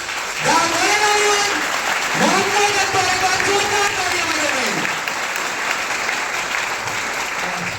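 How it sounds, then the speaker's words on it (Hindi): Loud, steady applause from an auditorium audience fills the whole stretch, with a voice talking over the clapping in the first half. "तो एक बार जोरदार तालियां,"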